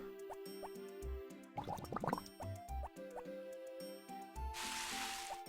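Watering crops in the video game Harvest Moon: short game plops and drips repeat over chiming background music, with a quick burst of splashy notes and a brief sprinkle of hiss near the end.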